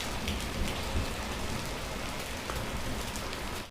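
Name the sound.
hailstorm with rain and thunder in Uttarakhand village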